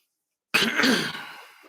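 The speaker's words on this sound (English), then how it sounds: "excuse me, I'm coughing a lot" One short, harsh cough, close and fairly loud, breaking a silence and then trailing off.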